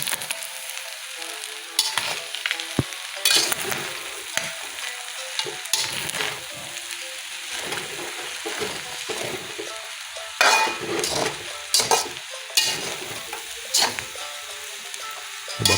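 A utensil stirs seafood rice through a sizzling pan. Scraping strokes sound close and uneven over a steady frying hiss, with occasional sharper clinks against the pan.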